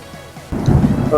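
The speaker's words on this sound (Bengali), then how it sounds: "বৃষ্টি।" Rain and thunder during a drive on a slippery, waterlogged country road: soft patter gives way halfway through to a loud, close rumble of thunder over heavy rain that carries on to the end.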